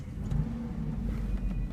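A 2003 Hummer H2's 6.2-litre V8 petrol engine hums with a low, steady rumble and slight revving rises, fairly faint and without voices.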